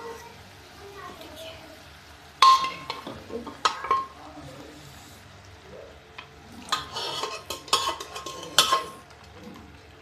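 Cooked dal being poured into a pan of palak and stirred, quiet bubbling and scraping broken by sharp clanks of a ladle against the pot, with someone speaking over it.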